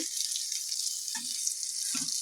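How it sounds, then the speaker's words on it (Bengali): Eggplant frying in a pan on a home kitchen stove, a soft, steady hiss of oil heard close, broken by a couple of faint low knocks, with no voices. "এদিকে বেগুন ভাজা হচ্ছে"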